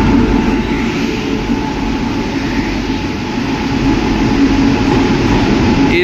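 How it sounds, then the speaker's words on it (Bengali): The Visakhapatnam–Shalimar superfast express, hauled by a WAP7 electric locomotive, stands at platform 1 with a loud, constant rumble and electrical hum that holds steady throughout. "22854 বিশাখাপত্তনম থেকে শালিমার সুপারফাস্ট এক্সপ্রেস অলরেডি 1 নম্বর প্ল্যাটফর্মে চলে"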